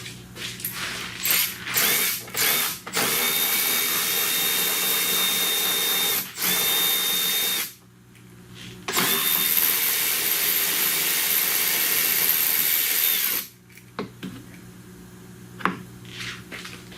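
A power tool removes screws from a plastic panel on a Hyundai Elantra, giving several close whirring bursts that stop and restart with short pauses between them.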